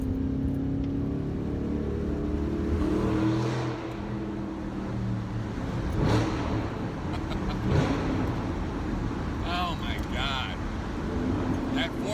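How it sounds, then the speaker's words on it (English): A 2014 Shelby GT500 engine rumbles with a deep, throaty racing exhaust note that swells as it revs, heard close up in a tunnel with voices talking over it. "Racing exhaust, it hums, throaty, loud, burps."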